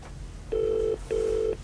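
A telephone in a 1970s office setting rings twice in quick succession, two short even electronic trills, fairly close, over a quiet room.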